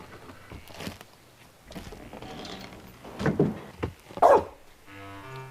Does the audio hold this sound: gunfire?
no